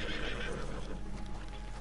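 A horse whinnies close by in Red Dead Redemption 2 online, a single short neigh with a hint of hoof clatter, heard alone and fairly loud.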